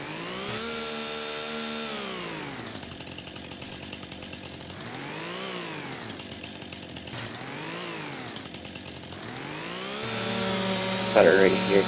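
A chainsaw in a video game runs steadily, its engine pitch rising and falling in repeated arcs as it revs, with a clatter near the end.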